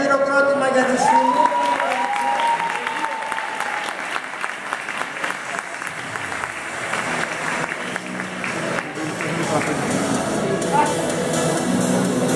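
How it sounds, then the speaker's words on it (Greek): Sustained audience applause fills the hall for the Symi island team, reaching its first final, with a steady wash of clapping from start to finish and voices in the crowd mixed in. "Όλοι ένα χειροκρότημα για τη Σίμη."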